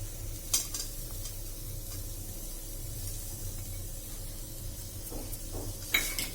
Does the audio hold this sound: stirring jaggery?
yes